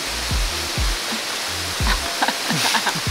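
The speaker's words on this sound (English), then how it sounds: "That's waterfall number two." A waterfall in Bogor, West Java, gives off a steady, broad rushing roar of falling water, with low muffled thumps beneath it.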